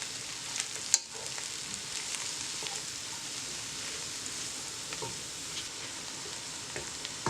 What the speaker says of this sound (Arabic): هنايا غادي نضيفو الشامبينيون حتى هو نقليوه واحد شويه مع هذيك البصله